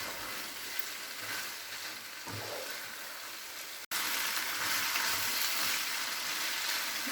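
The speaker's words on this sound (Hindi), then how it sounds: "अब इसमें बॉइल्ड किया हुआ पास्ता डाल देंगे, इन्हें मिक्स कर देंगे।" Boiled pasta is tossed and mixed in a hot pan with vegetables, producing a soft, continuous sizzle and hiss that briefly cuts out midway, then resumes slightly louder.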